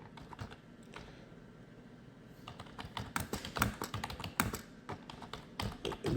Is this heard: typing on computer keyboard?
yes